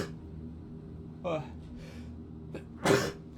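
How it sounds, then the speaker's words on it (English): A single person sneezes once, close and abrupt, after a couple of quieter breathy catches, over a low steady background hum. "I had to sneeze, as you might have heard."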